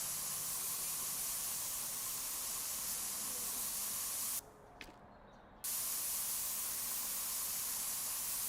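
Long continuous aerosol spray hiss from Spray Paint Simulator, steady and close, cutting out briefly midway before resuming.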